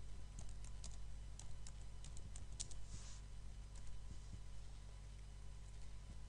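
Typing on a computer keyboard in a quiet room, a quick run of light key clicks in the first few seconds then sparser taps, faint and close against a low steady hum.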